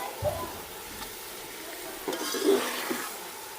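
Onions drop into a hot pan in a village kitchen for Punjabi red potato curry, giving a soft steady sizzle with a few scraping stirs of a utensil against the pan, fairly faint and close.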